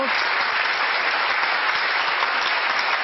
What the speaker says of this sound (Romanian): aplauze pentru băiatul sărbătoritului nostru